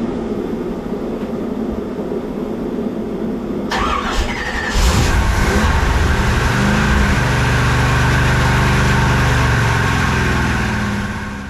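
An engine wired with a low oil pressure safety cut-off switch cranks with a squeal, catches and settles into a loud steady run, with no talk over it.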